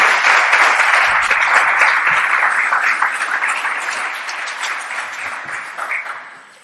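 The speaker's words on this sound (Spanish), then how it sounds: "pido un fuerte aplauso para Patricia" Loud audience applause welcoming a speaker at a cultural talk, a thick wash of clapping that holds steady and then slowly tapers off toward the end.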